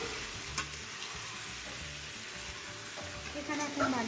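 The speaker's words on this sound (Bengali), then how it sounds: "তো ফার্স্টে আগে মাংসটা বানিয়ে নিচ্ছি।" Meat frying in a pan, a faint steady sizzle with occasional clicks and stirring sounds, no talk.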